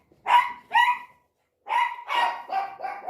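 Dogs barking indoors in a lounge, two sharp barks followed by a pause and then a quicker run of four barks, loud and close with no talk.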